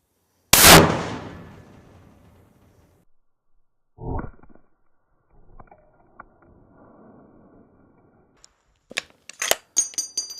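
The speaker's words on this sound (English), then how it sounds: "This is Silvertip 50 cal shot number 2." A Silvertip .50 caliber rifle round fires into a barrier: one loud, sharp blast with a fading tail, then scattered softer thuds and clatter of debris and handling noises.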